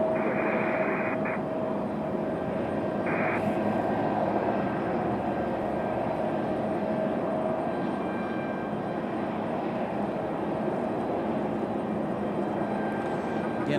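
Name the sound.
Delta CRJ regional jet taxiing out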